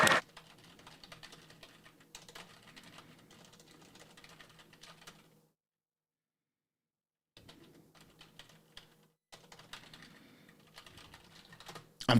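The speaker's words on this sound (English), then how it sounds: "If you hear my keyboard, it's because I'm a keyboard warrior." Computer keyboard typing during a parliamentary Question Period broadcast: quiet, rapid clicking keystrokes in bursts, broken by a few seconds of silence before resuming.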